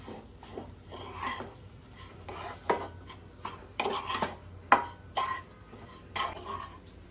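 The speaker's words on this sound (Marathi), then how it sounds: "आता ही कणिक जवळजवळ दहा ते पंधरा मिनटं मंद आचेवर भाजावी लागते" Wheat flour dough dry-roasts in a pan over low heat while a spoon stirs and scrapes it in irregular strokes, with soft scraping and occasional clinks of metal on the pan.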